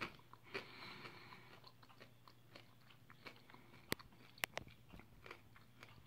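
Someone bites and chews dried edible insects such as grasshoppers and silkworms off a skewer, making faint, close crunching with a few sharp crackling snaps and no talking.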